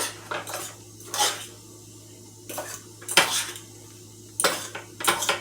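Vegetables tossed with butter and sea salt in a metal bowl or tray, giving repeated clattering scrapes of a utensil against the dish in short bursts, fairly close and with no talking.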